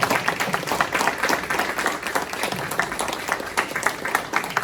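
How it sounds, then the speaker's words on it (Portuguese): An audience at a GEBTALKS event applauds the speakers with lively, close, uneven clapping from many hands and a faint crowd murmur underneath. "Salva de palmas para esses dois garotos."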